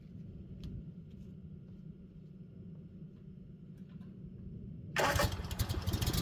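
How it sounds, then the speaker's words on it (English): Kawasaki FS600V small engine with a newly installed carburetor sits in a low rumbling hum, then near the end fires up into a sudden loud, harsh roar that continues running. "With a smooth start and a reassuring hum, it's evident that our work has paid off."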